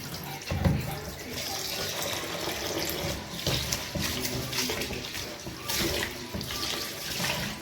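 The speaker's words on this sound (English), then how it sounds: "I'm going to wash it approximately 3 times" Pig trotters being washed by hand in a basin of water, with steady splashing and sloshing throughout, loud and close, with a sharper splash near the start.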